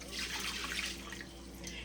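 Warm pineapple juice is poured into a bowl, making a steady close splashing trickle that continues for the whole span with no break and no voices.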